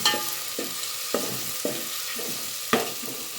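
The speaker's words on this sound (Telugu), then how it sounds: "ఉల్లిగడ్డ వేగాలి మంచిగా" Chopped onions fry in oil in a pan with a steady sizzle, while a spoon stirs them in regular scraping strokes about every half second, close and clear with no voices.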